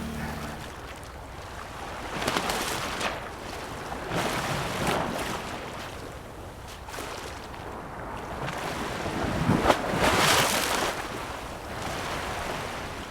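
Sea waves wash against the seawall at Pranburi beach on the Thai coast, a steady broadband rush with several louder surges breaking through, mixed with gusty wind buffeting the microphone and no voices.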